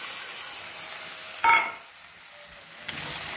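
Poppy seed and spice paste sautéing in a pan for aloo posto, a steady close sizzle with a brief louder hiss of stirring midway and a small clink near the end.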